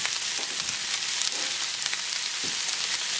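Fried rice sizzling in a skillet as soy sauce is added, a loud continuous hiss with crackling spatters and a few stirring scrapes, close-up, no speech.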